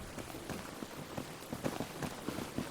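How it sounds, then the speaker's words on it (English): Steady patter of rain on a barn roof in the game Enshrouded, heard from below as a soft, continuous drumming of scattered drops with no voices. "even down here I can hear the rain on the roof"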